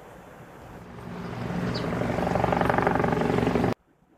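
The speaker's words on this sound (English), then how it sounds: "Helicopter." A helicopter grows louder as it approaches, its rotor thumping in a fast, steady rhythm over an engine roar before the sound cuts off abruptly.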